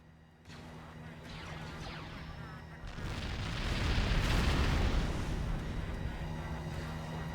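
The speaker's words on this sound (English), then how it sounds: "Was that a bombardment? Did it really use a bombardment for that?" Bombardment in the video game Star Wars: Empire at War, a deep rumbling roar of explosions that builds after a sharp onset, swelling loud and heavy before settling into a sustained low rumble.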